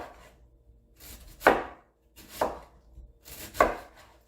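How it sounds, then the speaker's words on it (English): A knife slices through food by hand on a cutting board, three sharp cuts landing roughly a second apart with quiet pauses between, close and fairly loud. "You try to get that as thinly sliced as possible."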